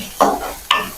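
Onion going into a pan for chicken adobo, two short bursts of stirring and sizzling a half-second apart, close and fairly loud, with no speech.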